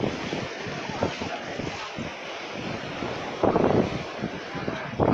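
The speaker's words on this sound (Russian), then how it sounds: "Но волны сегодня такие довольно-таки сильные, посмотрите." Strong sea waves surge and wash along the small Ventnor seafront promenade in England on a windy day, a steady close roar of surf with heavier crashing bursts toward the end and wind buffeting the microphone.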